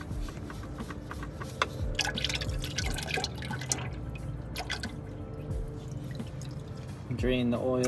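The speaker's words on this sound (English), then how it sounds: "Drain the oil that's in the filter itself." Oil drips and trickles steadily from a removed oil filter on a 10th-generation Honda Civic, a close, continuous patter of drops that turns into a brief louder pour near the end.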